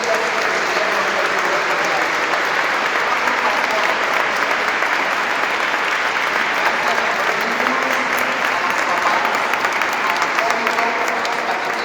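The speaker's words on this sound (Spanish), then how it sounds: "hacemos un fuerte aplauso y damos gracias a Dios" Sustained, dense applause from a congregation at a parish First Communion celebration, steady and loud throughout with a faint crowd murmur beneath.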